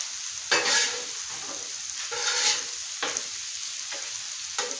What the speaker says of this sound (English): It's the first time I've made French fries on the Blackstone